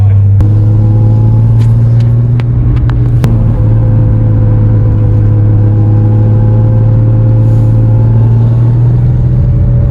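A classic narrow-body Porsche 911 is driven on the road, heard from inside the cabin as a loud, steady, low engine drone with a few faint clicks near the start.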